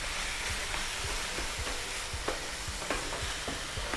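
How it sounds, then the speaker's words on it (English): Meat sizzling and being pulled apart and scraped on a hot flat top griddle, a constant loud frying hiss with repeated short scraping strokes throughout. "I'm just going to start pulling this apart"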